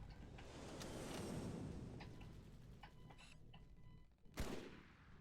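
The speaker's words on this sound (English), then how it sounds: "both buttons fire the SMGs" Dual submachine guns fire in the Halo 2 E3 demo video game, heard as a rattling burst of rapid game gunfire fading into scattered ticks and shots, ending with a sharp loud report near the end.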